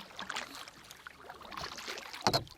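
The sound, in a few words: paddling a canoe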